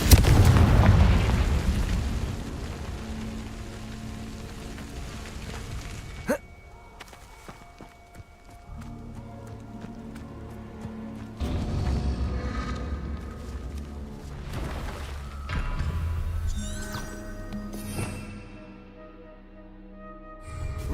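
Booming magical blasts from the Confringo spell in Hogwarts Legacy, one heavy explosion at the start followed by scattered thumps, footsteps and rumbling impacts of combat over about twenty seconds.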